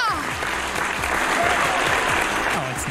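A crowd in the Say No! More video game cheers and applauds in a loud, continuous wash of clapping, with a voice speaking over it.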